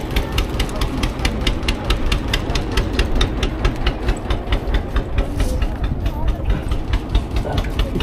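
A motorcycle engine idles and putters close by in rapid regular pulses as the bike boards a boat in the Sundarbans, with people talking over it.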